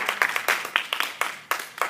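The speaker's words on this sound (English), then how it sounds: "Let's give her a round of applause, please." Short burst of applause at a classroom debate, a handful of people clapping unevenly in a room, brief and moderately loud.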